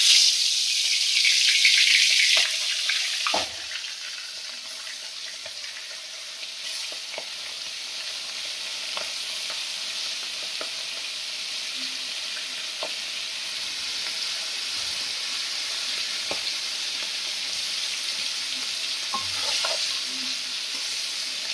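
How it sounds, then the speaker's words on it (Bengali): Marinated prawns dropped one by one into hot oil, opening with a loud burst of sizzle that settles into a quieter steady fry, marked by occasional soft pops and stirring knocks; no one speaks. "চিংড়ি মাছগুলো একে একে দিয়ে দেবো।"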